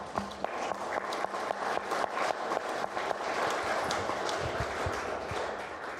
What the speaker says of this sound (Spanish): Te quiero dar un fuerte aplauso